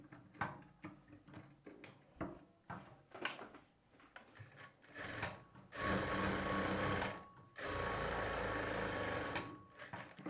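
A sewing machine stitching a blouse neck lining begins after some close clicks and fabric handling, then runs in two sustained, loud whirring bursts separated by a brief stop.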